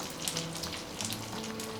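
Bread spread with an egg filling fries on a hot griddle, giving a soft, steady sizzle and crackle with no talking over it.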